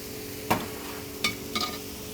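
Tomato paste sizzles in a pan under a steady, quiet hiss. A spoon makes three brief scraping stirs close by, with no one talking.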